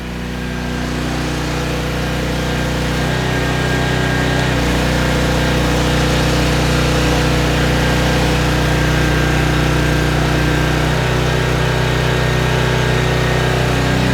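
Craftsman 5600-watt generator found in the trash and running with a carburetor that may need more cleaning, producing a loud, continuous engine drone with a steady low hum and slight irregular sputtering, with no speech.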